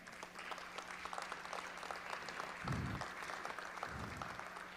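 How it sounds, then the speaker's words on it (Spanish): Audience applause at a conference on metropolitan governance, a steady faint patter of many hands clapping from a distance, continuing evenly for several seconds without talk. "Creo que le debemos un aplauso por esta iniciativa"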